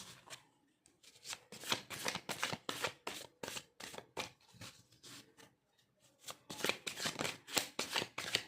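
A deck of cards being shuffled by hand, repeated riffles and flicks in quick rhythmic bursts, close and fairly crisp, with a short pause midway and no talking.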